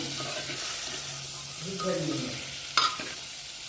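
Mutton curry frying in a pressure cooker is stirred, giving a steady close sizzle with soft scraping, a brief faint voice in the middle, and a sharp clink near the end.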